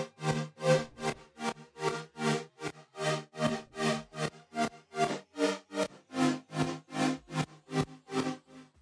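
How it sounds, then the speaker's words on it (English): Sidechained saw synth chords for a Bitbird-style trap track pump in a steady rhythmic chop, each chord swelling and cutting off about twice per second, quiet and alone. "Alright, so these are the saws."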